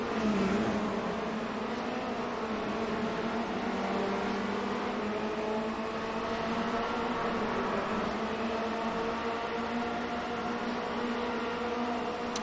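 A Formula Renault 2.0 race car engine drones steadily in a racing video game at Phillip Island, a continuous loud tone with rising pitch harmonics as cars run close together, no voices.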